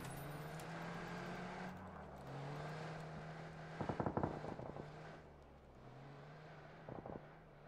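A vehicle in a video game engine hums and rolls past nearby, its tone shifting as it passes, with a short burst of clattering gunfire-like cracks midway and wind-like noise throughout.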